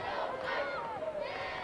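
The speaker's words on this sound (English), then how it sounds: "Crowd asking for a yellow card." Football crowd at a Philippines Football League match between Dynamic Herb Cebu FC and One Taguig FC, shouting together after a foul from behind. A dense, steady roar of voices sustains for under two seconds at moderate distance.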